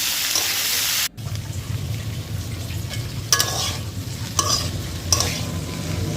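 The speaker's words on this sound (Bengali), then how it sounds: "ভালো করে নেড়ে চেড়ে এটাকে ভাজবো তার 5 থেকে 6 মিনিট।" Amla (Indian gooseberries) fry in a pan for pickle, a steady close sizzle broken by three distinct scraping stirs of the spoon, with no talking.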